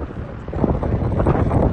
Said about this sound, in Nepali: दामी हावा चलिरहेछ।